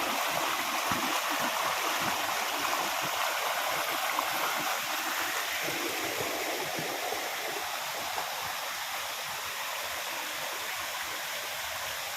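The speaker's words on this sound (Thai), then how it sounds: "ตอนนี้อยู่บนน้ำตกแล้วครับ" Steady, broadband rush of Huai Khe waterfall in Thailand, a dense continuous roar of flowing water that holds constant and close throughout with no pauses.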